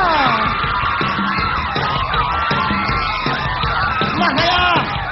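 A TV variety show studio audience yells and cheers together, a dense, loud, continuous crowd roar with whoops and shouts rising over it.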